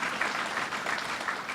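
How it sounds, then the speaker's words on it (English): Audience applause fills a conference hall at a sustainability event in Lake Placid, a steady, dense wash of clapping that holds at an even level throughout with no voices on top. "let's give that a round of applause."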